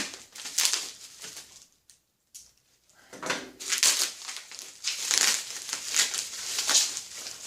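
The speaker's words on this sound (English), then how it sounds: "Unpack the lens, which is the brass piece in this bubble wrap." A brass camera obscura lens is unwrapped from bubble wrap with close, crackling bursts of crinkling plastic, a brief quiet gap, then several more rustling rounds.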